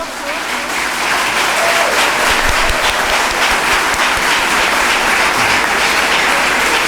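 An audience claps loudly and steadily at an event, applause sustained throughout as a dense, even roar of hands.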